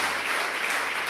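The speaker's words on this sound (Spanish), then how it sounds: "Denle un aplauso fuerte al que vive" A congregation at a church service claps in steady, dense applause that fills the whole short moment, with no break.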